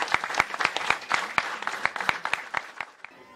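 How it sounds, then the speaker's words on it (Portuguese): A small audience at an outdoor park program gives a round of applause, a sparse run of distinct, fairly close claps in an irregular rhythm that thins out and fades at the end. "E eu quero uma salva de palmas para todos eles que estão aqui"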